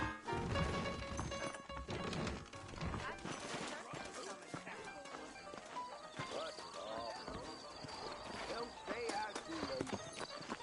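Horse hooves clip-clop in Red Dead Redemption, with saddled horses moving out of a western town, a steady hoofbeat rhythm under busy game sounds and a neigh, while people talk over it.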